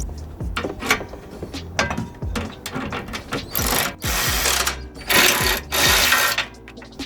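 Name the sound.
wrench tightening bolts on Freightliner semi truck battery step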